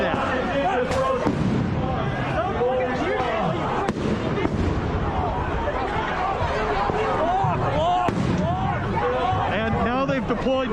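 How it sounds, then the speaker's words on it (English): Flashbang grenades go off at a street protest in Seattle, sharp bangs cracking out every few seconds amid a constant crowd roar of shouting and overlapping voices. "the flashbangs are going off behind me"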